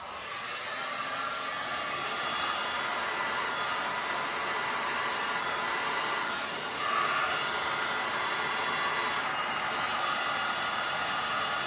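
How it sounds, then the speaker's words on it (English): A heat gun blows hot air in a steady, close whooshing hiss that runs unbroken with only a slight swell partway through. "I'm going to get the heat gun out now, and it's going to blow it around a bit."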